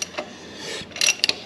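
A Honda S2000 engine with a seized aluminum block, wet with WD-40, turned backward by hand: close mechanical ratcheting and grinding clicks, with brief scraping bursts near the end.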